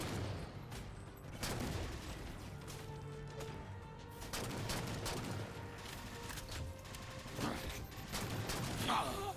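Gunfire from turrets manned by grunts during a Halo Spartan Ops battle on Legendary, with repeated bursts and crashes layered over a busy, continuous combat din, and faint speech under the fire.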